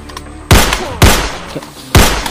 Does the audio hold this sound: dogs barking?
no